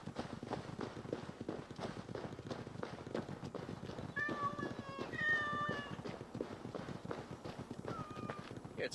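A cat meows several times in the Assassin's Creed Discovery Tour: Viking Age video game, a run of short rising calls standing out over a busy backdrop of game ambience and footsteps.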